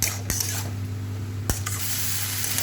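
Potatoes and peas sizzle as they are stir-fried in a pan, with a couple of sharp scraping strokes of the spatula over a steady low hum, close by and fairly quiet.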